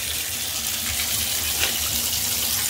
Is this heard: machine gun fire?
no